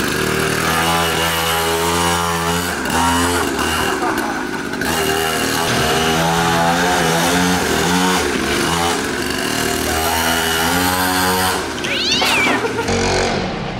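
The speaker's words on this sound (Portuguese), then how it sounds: "vamos acelerar esse negócio com a nossa nova mini moto" A small two-stroke mini motorcycle engine revs loudly and repeatedly at a gas station, its pitch rising and falling, with brief voices talking over it.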